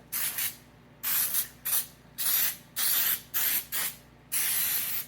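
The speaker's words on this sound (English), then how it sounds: "I'm gonna spray the edges one more time." Short bursts of nonstick cooking spray hiss out onto pan edges in quick succession, about eight sprays of varying length separated by brief pauses, close and clear.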